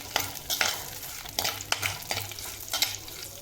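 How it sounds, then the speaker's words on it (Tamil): Red samba aval (rice flakes) lightly frying in ghee in a kadai, with a soft sizzle under repeated close stirring scrapes and clicks, quiet and with no voices. "நெய் சூடானதும் ஒவ்வொன்றா நம்ம ஃப்ரை பண்ணி எடுத்துக்கலாம்"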